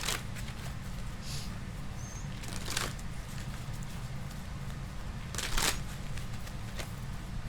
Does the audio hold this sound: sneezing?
no